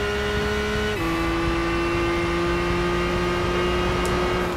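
Nissan Skyline GT-R V-Spec II Nür R34 from 2002 in Gran Turismo 5, its engine holding a steady loud drone that drops in pitch once with a gear change, then sustains evenly.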